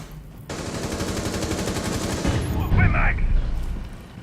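Rapid automatic gunfire from a Rainbow Six Siege esports match, a loud fast burst of shots firing continuously for a few seconds, followed by a heavier blast and impacts.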